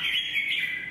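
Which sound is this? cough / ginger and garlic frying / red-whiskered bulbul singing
red-whiskered bulbul singing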